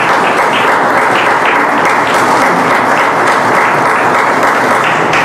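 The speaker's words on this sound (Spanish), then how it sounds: "Animemos a estos hermanos dándoles un fuerte aplauso." A Spanish-speaking congregation gives loud, sustained applause during Sunday Mass in church, many hands clapping steadily and evenly with no talk over it.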